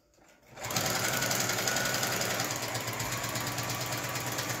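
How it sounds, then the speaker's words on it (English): A sewing machine stitches a quilt sleeve, starting up after a brief quiet moment and then running as a loud, steady, rapid mechanical whir close by with no talking. "but I'm just sewing"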